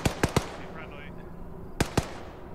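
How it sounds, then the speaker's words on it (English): Gunfire in the military shooter Arma 3: a quick burst of three sharp shots, a short lull, then two more cracks, loud and fairly close with a faint echoing tail. "Check your fire, you might be shooting friendlies."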